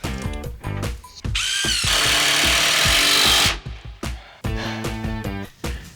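Power drill driving the last few screws into a timber joist during a cottage renovation: short revving bursts, then one long, loud, steady whine as a screw bites in, followed by more quick stop-start pulses, close and alone.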